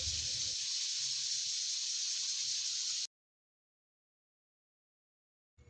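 A pressure cooker hisses loudly and steadily with goat trotters cooking inside, a continuous close steam jet that suddenly cuts off and falls silent before a brief return at the very end.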